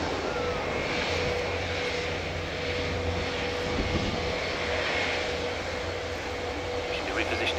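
An F/A-18 Super Hornet jet flying a display at RIAT 2010, heard as a steady, distant engine roar that swells and fades slightly as it passes, under a commentator's voice.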